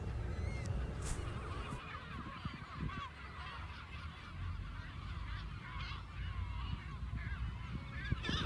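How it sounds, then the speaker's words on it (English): A dense penguin colony in Chile calling continuously, many overlapping honking and braying cries from near and far, forming a constant noisy din with no talking. "please enjoy the sounds of these really cool aquatic birds"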